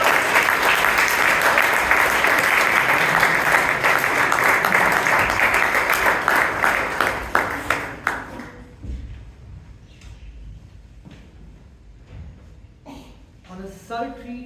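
Audience applause welcoming the first speaker at a Bangalore Toastmasters Club meeting, a loud, dense burst of clapping that holds for about eight seconds and then thins to scattered claps, with some taps and voices near the end.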